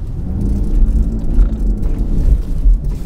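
A Land Rover Defender engine labours up a muddy forest track, a loud, close, low rumble that swells and eases with the throttle, alone without talk.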